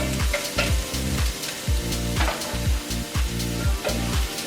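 Chopped onions frying in a hot pan for a shepherd's pie, a steady loud sizzle broken by repeated scraping stir strokes in a regular rhythm, with no talking.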